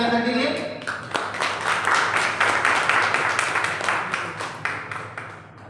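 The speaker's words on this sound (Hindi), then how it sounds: "जोरदार ताली बजा सर के लिए।" Clapping breaks out among the audience at a health awareness event as a guest is called up, a broad rattle of hands that builds and then fades, heard alongside a speaking voice.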